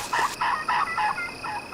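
A wild turkey tom gobbles repeatedly nearby during a spring hunt, with several rapid rattling bursts in quick succession; a louder opening gobble fades into a steady string of calls.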